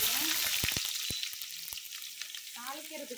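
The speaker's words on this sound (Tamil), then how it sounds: "வெங்காயம் போட்டுக்குவோம்" Sliced onions sizzle and fry in hot oil in a pan for a Tamil hotel-style chicken kulambu, a steady close crackle broken by a few sharp stirring scrapes and clacks.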